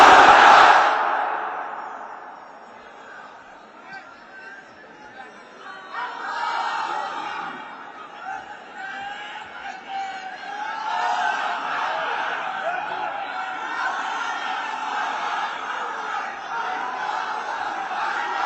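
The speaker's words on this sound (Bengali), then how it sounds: "সবাই মিলে তিনটা তাকবীর পড়েন" A crowd at an Islamic sermon chants takbir in unison, a broad swell of many voices rising after a quieter opening and holding steady, fairly loud, through the second half.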